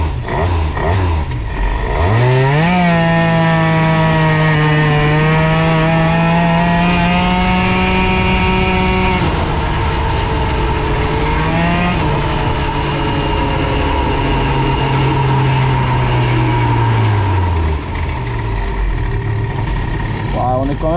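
A Bidalot RF 50 WR two-stroke motorcycle starts and pulls away, its engine revving up into a high, sustained whine that dips and climbs again as it rides off, loud and close throughout.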